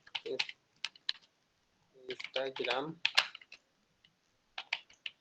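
A computer keyboard clatters in short bursts of quick keystrokes while entering a search on fiverr.com, with a person talking in between and over the typing.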